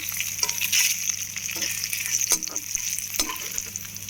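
Dried red chillies fry in a pan for a spicy chickpea fry, giving a steady close hiss of sizzling oil with occasional light stirring scrapes and pops.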